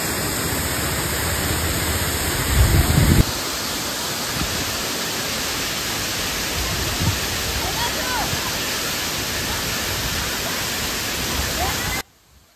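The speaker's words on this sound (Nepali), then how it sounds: "अहिले हामी एउटा अक्टोपस झरना नजिकै आएका छौँ" The Octopus waterfall on the Tilicho lake trek in Lamjung gives a loud, steady roar of falling water that fills the clip. A heavier burst comes near the start and the sound cuts off abruptly at the end.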